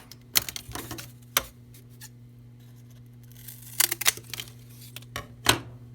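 Scissors or a blade cutting through cardboard, heard as several sharp, close snips and crunches in short bursts, with a steady low electrical hum underneath.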